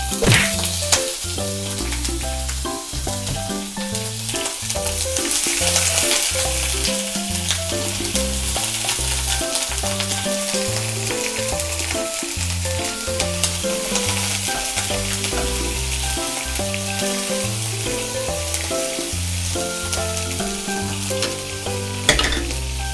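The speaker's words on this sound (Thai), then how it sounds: "แล้วก็ใส่หมูไปเลย ผัดหมูให้สุก" Pork stir-fried in a pan for a cabbage dish, a loud continuous sizzle with rapid rhythmic spatula scrapes and knocks throughout, close and without talk.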